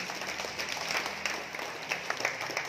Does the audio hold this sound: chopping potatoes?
no